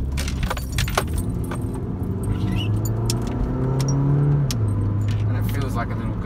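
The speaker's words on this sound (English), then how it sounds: "it revs pretty high for a little small car" A Mini Cooper S convertible in sport mode accelerates around a corner, its small engine revving up steadily and loudly beneath wind and road noise, with a rattling jingle nearby.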